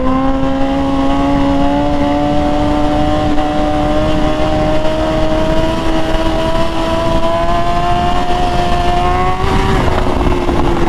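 BMW S1000RR motorcycle on an open road: a steady, loud engine drone holds at a high pitch and climbs slowly, with a brief shift near the end. Wind noise runs underneath throughout.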